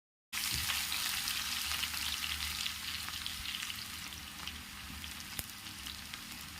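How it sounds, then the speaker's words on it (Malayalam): Three sliced onions fry in hot oil in a pan for a beef dum biryani masala, giving a steady, dense sizzle and crackle that stays close and continuous throughout with no voices. "അപ്പോൾ ഒരു 3 സവാള ഞാൻ വറുത്തെടുക്കുന്നുണ്ട്."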